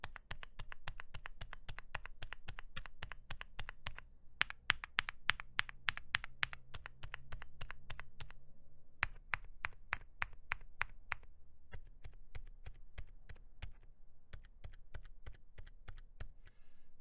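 Heavy, forceful typing on a keyboard fitted with Wuque WS silent tactile switches, dense damped keystrokes in rapid bursts with a few brief pauses, close and steady with no talking.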